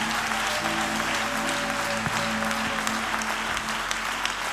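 A church congregation at a mass prayer service claps together in praise, a dense, steady wash of applause sustained throughout, loud and close, with a low organ-like drone beneath.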